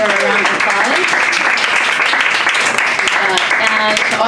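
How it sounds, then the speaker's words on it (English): An audience at an evening salon lounge event gives the host a warm round of applause: dense, steady clapping from many hands, loud and close, with voices mixed in throughout. "give her a round of applause"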